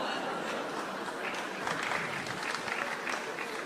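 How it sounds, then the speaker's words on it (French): Applause from a lecture audience, steady dense clapping throughout, fairly loud and close, with a few scattered voices and chuckles mixed in. "Ne nous applaudissons pas."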